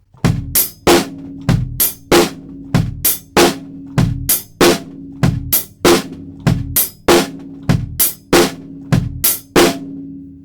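A steady drum groove for a song played alone: bass drum thumps under crisp, regular hi-hat ticks, with snare hits on the backbeat, repeating for several bars.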